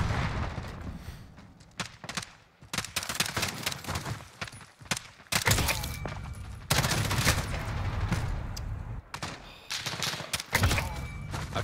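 Gunfire in Call of Duty Modern Warfare comes as dense bursts of rapid automatic shots and single cracks, loud and close, with short gaps between volleys over about eleven seconds.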